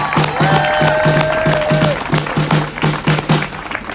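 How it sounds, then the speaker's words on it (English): Crowd applause at an outdoor rally for a youth speaker, a steady wash of clapping with rhythmic claps and a brief overlapping voice or whistle early on. "Give him a big round of applause."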